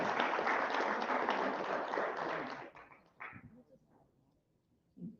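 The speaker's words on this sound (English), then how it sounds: "Applaud to the volunteer." An audience applauds a volunteer at a seizure awareness symposium, a dense burst of clapping that lasts a few seconds and then thins into scattered claps and quiet room noise.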